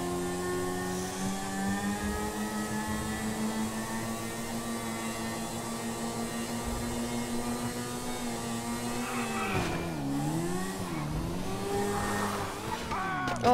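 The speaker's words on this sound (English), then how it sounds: "I'll just drive on this bike for a bit." A motorbike in the video game GTA V holds a steady droning engine note while driving, then the pitch dips and swells as the bike slows and revs again.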